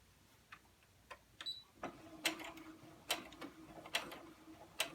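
A sewing machine stitches slowly across a fabric face mask, giving sparse, irregular mechanical clicks and ticks with a faint motor hum.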